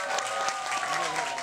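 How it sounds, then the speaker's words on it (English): An audience applauds a jazz pianist at a Panama–Korea diplomatic anniversary event, a dense steady wash of clapping with crowd murmur underneath. "give a bigger applause"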